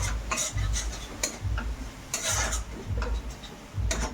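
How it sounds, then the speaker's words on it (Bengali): Spices stirred with a little water in a pan while cooking meat at home, a spoon scraping and tapping against the metal in repeated short strokes, close and fairly steady. "সামান্য একটু জল দিয়ে ভালো মতো নেড়ে নিচ্ছি"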